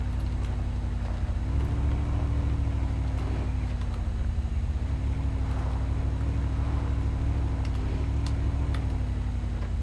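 UAZ off-road vehicle in Spin Tires, its engine droning low and steady throughout with slight pitch shifts as it labours along, close and continuous.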